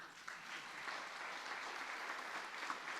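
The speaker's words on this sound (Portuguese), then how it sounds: "Vamos aplaudir?" Steady applause from a congregation at a Marian congress in Fátima, Portugal, a dense, even clatter of many hands sustained throughout at moderate volume with no talk over it.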